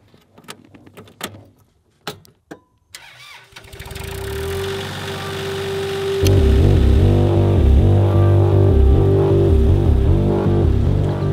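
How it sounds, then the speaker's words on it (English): A Kubota L35 tractor, roughly 20 years old, starts up after a few clanks and thumps, then its diesel engine runs loud and close with a steady throbbing idle that rises in strength. "She is a Kubota L35 tractor."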